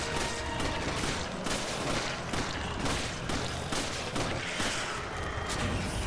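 Dense, continuous gunfire in Resident Evil 5 during a shootout in an African setting, with rapid overlapping shots and booms forming a steady loud barrage throughout and no voices heard.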